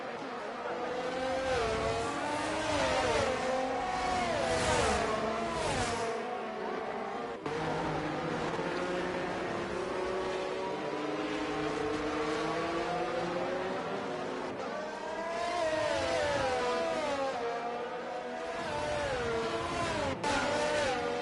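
Race cars in a racing video game circle the Canada circuit behind a safety car during a sprint race, engines droning steadily with shifting revs and gear changes throughout, loud and continuous.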